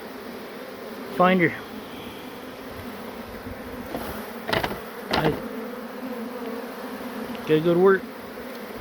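Huge swarm of honey bees with white-eyed drones, a dense steady buzzing hum filling the air throughout, with someone speaking briefly and a few nearby handling knocks.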